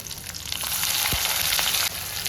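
Onions tossed into hot oil with tempering seeds in a pan sizzle loudly and steadily, a close crackling fry with a brief thump as they land, no voices.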